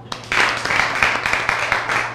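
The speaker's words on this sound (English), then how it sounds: "Give them a clap." Students in a classroom clap briefly after a lesson presentation, a short burst of scattered hand claps at moderate volume with a low hum underneath.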